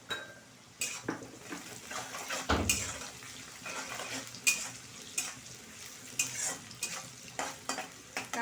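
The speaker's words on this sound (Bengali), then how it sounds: "পেঁয়াজটা খুব বেশি লালচে করে ভাজা হবে না, তো অল্পই ভাজবো।" Onions fry lightly in a pan with a pinch of salt for an eggplant dish, a soft sizzle punctuated by irregular clanks and scrapes of a utensil stirring against the metal.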